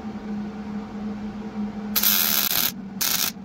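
Two short bursts of crackling, hissing arc as steel parts for a homemade press brake are tack welded, the first longer, the second brief, over a low background hum.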